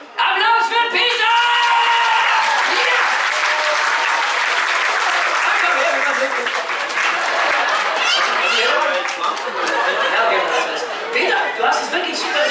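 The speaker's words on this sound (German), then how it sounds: "Applaus für Peter!" Sustained, loud crowd applause and cheering from an audience at a live Star Wars-themed children's entertainer show at Legoland, with chatter mixed in throughout.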